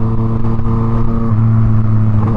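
A Yamaha MT-09 motorcycle with a straight, muffler-free exhaust idles and revs loudly and close, a deep steady droning rumble with a slight rise in pitch partway through.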